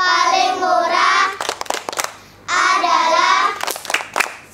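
Children's voices chant together in a rhythmic clapping game at a Quran learning group, with bursts of quick hand claps between the chanted lines, loud and close.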